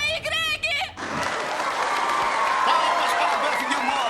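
After a brief spoken line, a theater crowd in a comedy film scene bursts into a standing ovation, a full, steady wave of clapping and cheering that carries on to the end.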